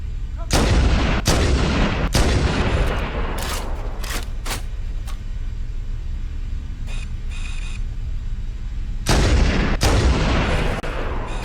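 Covering gunfire in the video game Halo: Combat Evolved Anniversary: loud, heavy shots and booming bursts over a dense roar of battle. A pause in the middle gives way to more blasts near the end.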